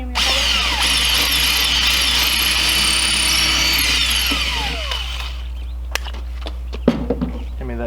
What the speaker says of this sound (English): Now we're going to come in with some 2-inch screws and screw that all together.